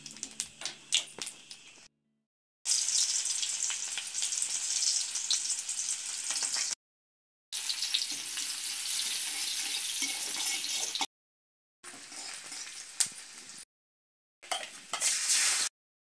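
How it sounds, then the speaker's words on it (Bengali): Fish sizzles steadily as it fries in a pan for a spicy curry, a close, continuous hiss broken by several short gaps of silence. "এবার মাছগুলো ভাজবে"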